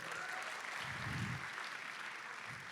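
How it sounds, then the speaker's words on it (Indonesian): A crowd at a 14 June 2025 gathering claps for Akiro in a short, fairly faint burst of applause, an even patter that holds steady throughout. "Boleh gak beri tepuk tangan buat Akiro?"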